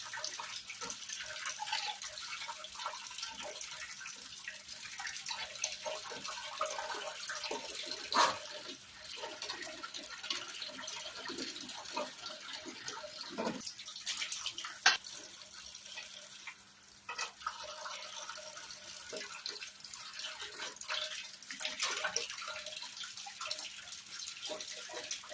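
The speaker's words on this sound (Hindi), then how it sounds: "देखो इसी प्रकार मैं अच्छे से रगड़ रगड़ के 2-3 पानी से धोऊंगी।" Watermelon rind pieces are scrubbed by hand and rinsed in a bowl of water in a home kitchen, a continuous close splashing and sloshing with rubbing noises and occasional sharper knocks, with no talking.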